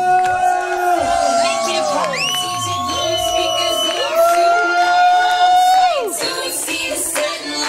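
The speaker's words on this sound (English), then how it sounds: "Scream and shout for Mia!" Crowd at a bar mitzvah party screaming and shouting, with many high voices cheering and whooping together loudly and continuously, filling the room at close range.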